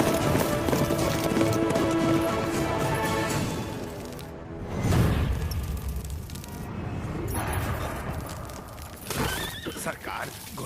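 A frightened horse runs in a South Indian action film scene, its hooves clattering steadily for about ten seconds under a dense, loud mix, with shrill whinnies rising near the end and a brief thump around the middle.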